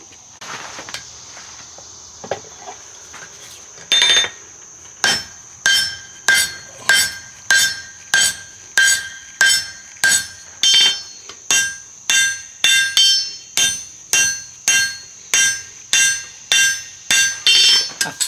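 Hot steel bar being drawn down into hooks on an anvil, struck with a hammer in a steady run of about twenty sharp ringing blows after a few scattered early taps.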